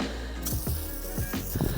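Repeated squeaky pumping strokes from a hand pump sprayer used for cleaning car paint, each a short rising-falling squeal, about four in a steady rhythm over a constant hiss.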